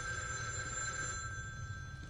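A telephone rings steadily in The Evil Within 2, a thin electronic trill held over low ambient rumble.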